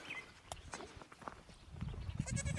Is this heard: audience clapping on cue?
no